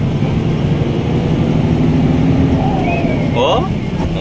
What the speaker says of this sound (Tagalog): Ganda magumuni ng turbo.